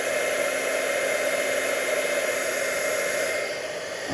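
An embossing heat tool blows steadily to heat set embossing powder on a poinsettia card, a loud continuous whooshing hiss that stays even and close, dipping slightly near the end, with no talking.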